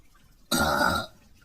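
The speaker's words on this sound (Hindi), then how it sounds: "तभी कालू जानबूझकर डकार देने लगता है" A single loud, drawn-out burp lasting about half a second, close to the microphone, with quiet before and after.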